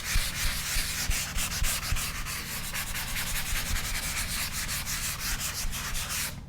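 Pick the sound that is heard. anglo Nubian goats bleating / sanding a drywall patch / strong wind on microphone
sanding a drywall patch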